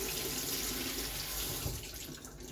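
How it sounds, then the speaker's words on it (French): Tap water runs steadily over an atipa fish being rinsed in a sink, a close, even hiss and splatter that softens slightly near the end. "Et le rincer bien."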